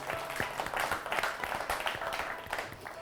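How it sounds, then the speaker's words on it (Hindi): Audience applause at a women farmers' awards grand finale welcoming a guest from Kottayam, Kerala: soft, steady clapping throughout, fairly distant and even. "जोरदार तालियां हेमा जी के लिए"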